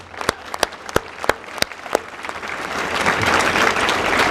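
Scattered claps at first, quickly swelling into steady, full applause from a crowd at a ribbon-cutting ceremony.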